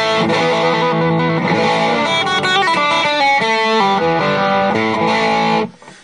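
Electric guitar played through an Ibanez SD9 Sonic Distortion pedal, loud and sustained chords and riffs with a gritty, saturated tone, ringing out then cut off at the end.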